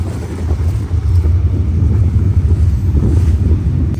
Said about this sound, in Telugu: ట్రైన్ చూడండి ఎలా ఊగుతుందో మొత్తం